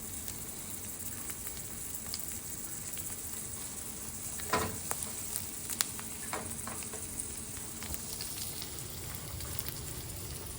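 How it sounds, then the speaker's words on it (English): Tofu frying in a pan with teriyaki sauce, a continuous soft crackling sizzle heard close up, with scattered pops and one or two brief clinks of a utensil midway. "put them back into the pan with some of that teriyaki sauce and kind of get that glaze going"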